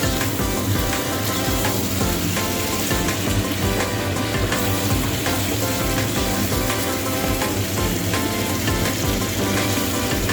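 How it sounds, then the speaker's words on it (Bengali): Goat meat and tomato frying in a pan, a loud, dense, continuous sizzle and crackle heard close up throughout, with no talk. "এর মধ্যে মাখানো খাসির মাংস আর টমেটো ছেড়ে দিয়ে একে হালকা করে ফ্রাই করে নেওয়া হচ্ছে।"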